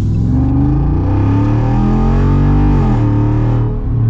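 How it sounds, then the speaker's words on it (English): A 2023 Jeep Wrangler with a very loud exhaust revs hard close by, its engine tone climbing and falling in one continuous roar that rattles the roof. "the exhaust is so loud that it rattles the top"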